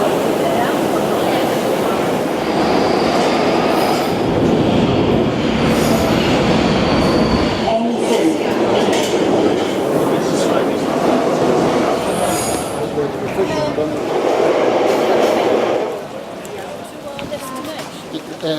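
A children's railway train rumbles along the rails nearby, loud and steady, with squealing wheels and clattering, while people talk over it.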